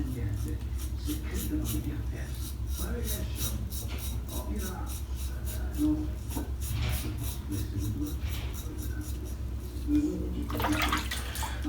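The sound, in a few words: water filling a sink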